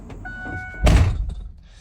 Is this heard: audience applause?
no